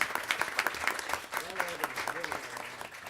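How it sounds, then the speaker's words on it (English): Applause from a panel discussion audience at an agile executive forum: scattered, distinct claps at a quick, uneven rhythm, with a voice talking over them partway through. "Big applause."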